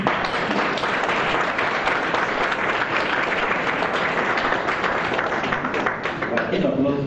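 Audience applause at a Black History program at OSUIT, a steady dense wash of many hands clapping that fills the room throughout, with faint voices mixed in underneath.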